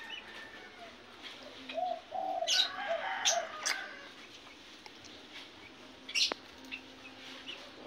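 Several cooing and chirping Java sparrow calls at a moderate distance, short bursts spread across a few seconds over a faint outdoor background.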